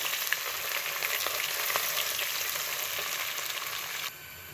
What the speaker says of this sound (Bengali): এবার পেঁয়াজ কুচিটাও ভালোভাবে ভেজে নিচ্ছি।